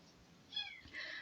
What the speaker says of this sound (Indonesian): Sorry ya, ada backgroundnya suara kucing.